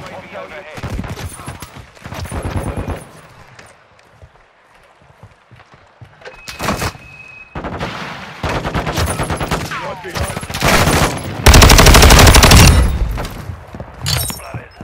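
Rapid bursts of automatic gunfire and heavy fusillades ring out during a VTOL-plane video game match, loud and repeated in clusters, with a player talking between and over the volleys.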